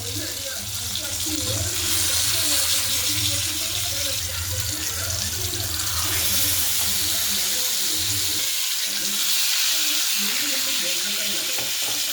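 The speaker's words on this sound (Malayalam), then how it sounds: "നല്ല അടിപൊളിയായിട്ട് വറുത്ത് വരുന്നുണ്ട്" Kalanchi fish fillets frying in a pan, a dense continuous sizzle and crackle with low bubbling underneath, steady and close throughout.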